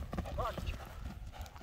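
A large, freshly shod horse's hooves clip-clop in a few close, sharp knocks, heard under someone talking.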